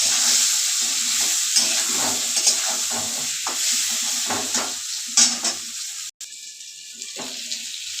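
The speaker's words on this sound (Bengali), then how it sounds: "আলুটা আগে ভেজে নেব" Potatoes fry in a pan with salt and turmeric, a steady broad sizzle running throughout with scraping stir strokes, one brief cut-out near the end, and no talking.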